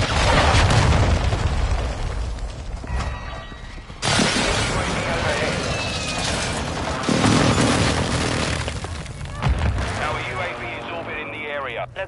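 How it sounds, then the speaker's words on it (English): Video game airstrike explosions in a shooter: heavy booms, blasts and shattering bursts repeat over about twelve seconds, loud and dense, with game voice callouts mixed in. "Friendly airstrike in the area."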